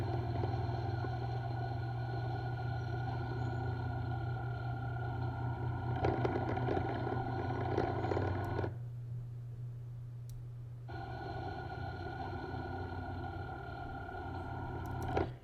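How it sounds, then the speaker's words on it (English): A motorcycle engine droning steadily as the rider approaches an intersection, then dropping sharply in tone as the throttle is rolled off, before picking back up to a steady hum. "He's rolling off the throttle."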